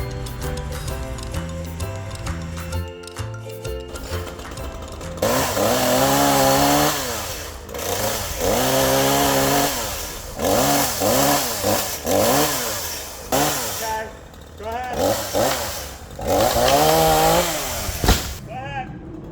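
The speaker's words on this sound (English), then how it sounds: "Notching the branch to swing it sideways, straight down is not an option with the garage nearby." Chainsaw cutting a notch into a maple tree branch, with the engine revving in repeated surges and dips for most of the stretch; a brief lull and some background sound come first.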